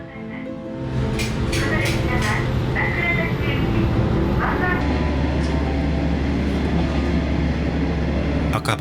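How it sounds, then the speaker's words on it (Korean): A JR KiHa 40 diesel railcar's engine drones steadily from inside the carriage, rising and then settling into a low continuous throb, with rail clatter and cabin noise around it. "제가 좋아하는 디젤음이 들려오기 시작합니다."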